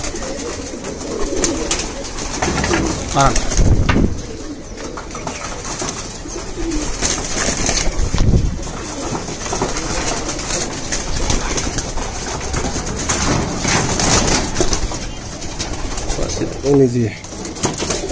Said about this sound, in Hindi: दिखाते हैं आपको उड़ने वाले कबूतर के क्वालिटी